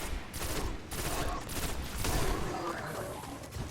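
Weapon fire in the video game Destiny: rapid bursts of gunshots crack and rattle in repeated volleys, fairly loud and continuous throughout.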